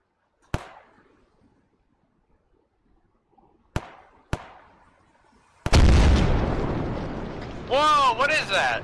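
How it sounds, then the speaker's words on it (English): Mortar or artillery impacts in the military shooter ARMA 3: three sharp, distant booms spaced apart, then a loud sustained rumbling roar with rising whining tones toward the end, like incoming fire landing nearby. "Is that mortars coming in?"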